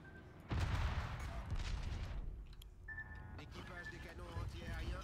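In World of Warships, bursts of heavy anti-aircraft gunfire and booms crackle over a steady rumble of ship engines, with distant rapid shots continuing throughout.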